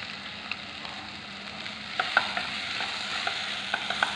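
Spice masala with added black pepper powder being stirred in a frying pan, a soft steady sizzle under scattered scraping taps of a spoon against the pan, close and moderately loud, no talking.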